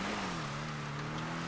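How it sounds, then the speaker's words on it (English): Heavy truck engine in the game GTA V, a steady low droning hum with a slight pitch dip, continuous and fairly close, alone without talk. "I hear a truck."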